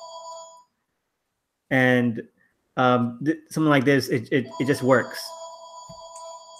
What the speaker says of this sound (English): Please excuse the phone in the background, or unless you want to grab it.